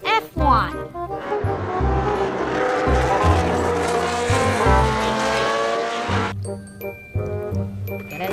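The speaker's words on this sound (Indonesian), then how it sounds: "mobil balap F1." An F1 race car sound effect plays for a toy racing car: revving engine tones and sharp tire squeals, loud and close, with voices and toy sounds mixed in.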